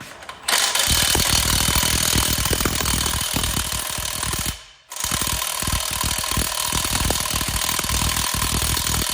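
A Milwaukee impact wrench works on stubborn bolts of a Case IH Quadtrac 550 tractor: a loud, continuous, rapid hammering rattle, broken by one brief pause, then resuming at full force.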